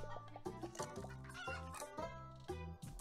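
Chickens clucking in the card game Terracards, a series of clear, close, melodic clucks and bawks in quick succession, loud and alone with no talk.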